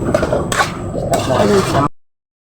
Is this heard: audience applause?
no